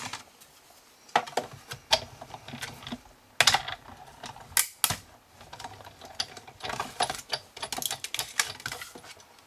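A die-cutting machine cuts out a paper card frame with a run of irregular clicking and clattering mechanical taps, close and moderately loud, sparse at first and then busier, with no voices.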